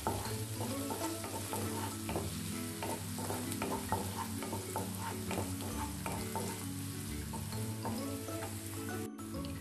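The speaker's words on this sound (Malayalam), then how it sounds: "പച്ചമണമൊക്കെ ഒന്ന് മാറി വരാൻ വേണ്ടിയിട്ട് ഇളക്കി കൊടുക്കും" Ginger and garlic fry in a pan for onion rice while being stirred, giving a steady close sizzle with soft repeated scrapes of the spoon throughout and no talking.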